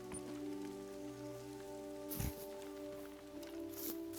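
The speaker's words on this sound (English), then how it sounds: "Oh, look, it's raining." Rain in the hunting video game theHunter: Call of the Wild, a faint, soft, steady patter under a low tonal hum, with a couple of brief louder rustles and no talking.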